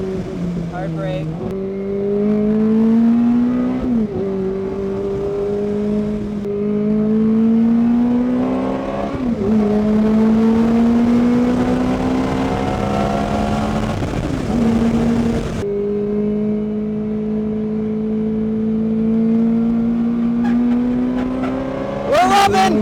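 A Ferrari F430 on a racing track, its engine revving and pulling through gears with rising pitch sweeps and brief shift breaks, loud and sustained from the cabin.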